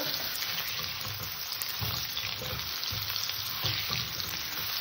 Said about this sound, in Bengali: আলু কাটাকে একটু হালকা করে ভেজে নেব